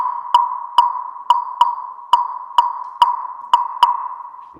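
Slit drum struck with a hard rubber mallet, nine evenly spaced resonant hollow tones at a steady pitch, each with a sharp attack and short ringing decay, close and clear with no voices.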